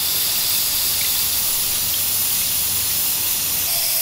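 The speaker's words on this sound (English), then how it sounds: "just hold the spray paint like a pretty decent angle, and then just spray it in" Spray paint hisses from a can into a bucket of water for hydro dipping, one loud, close, unbroken spray lasting about four seconds.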